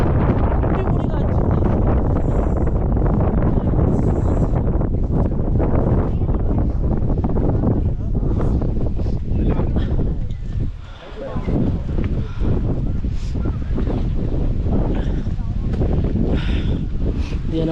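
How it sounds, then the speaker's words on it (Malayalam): Strong wind on the Kolukkumala hilltop in Munnar, loud continuous gusting buffeting the microphone, with a short dip in strength near the end. "അടിപൊളി കാറ്റ്."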